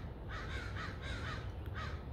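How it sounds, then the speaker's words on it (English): Crows caw outdoors in a fairly faint, regular series of about five harsh calls over a quiet background. "I know, crows, I know."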